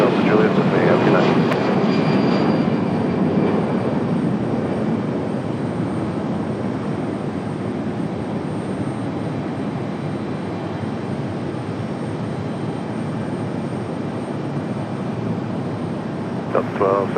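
A FedEx aircraft departing Raleigh-Durham International Airport in the evening, a steady, continuous engine roar holding for the whole stretch while a voice talks over it.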